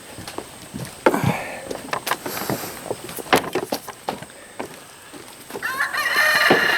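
Chickens cluck and a rooster crows repeatedly nearby, the calls dense and overlapping in an outdoor yard, growing louder and more continuous toward the end.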